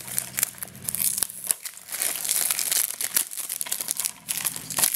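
Plastic wrap crinkles and tears as a Gears of War 3 Xbox 360 collector's edition box is unwrapped, making dense, crackling rustles that run close and continuous with small bursts.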